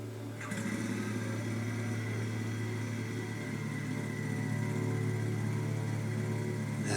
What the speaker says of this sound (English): That sounds like a very particular motorcycle.